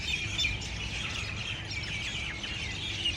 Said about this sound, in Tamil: விதவிதமான குருவி சத்தமாக இருக்குது.